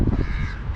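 Crows at an urban feeding spot where pigeons also eat, giving a loud, harsh caw up close that fills the brief moment alone.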